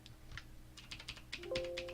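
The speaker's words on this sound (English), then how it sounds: "Has all the clicky keys" Clicky mechanical key presses on a Razer BlackWidow 2014 Expert Edition keyboard, a quick irregular run of sharp clacks close by, with a faint electronic tone near the end.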